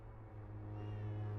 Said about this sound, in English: Did I just hear a meow?